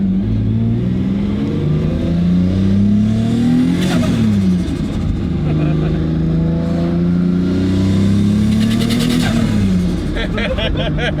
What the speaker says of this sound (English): The compressor surge is pretty violent when you're on power.